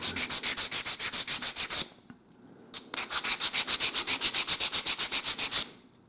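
Edges of a wooden steam engine part being sanded by hand with 220 grit sandpaper, making rapid, rhythmic rasping strokes up close, in two long runs separated by a brief pause.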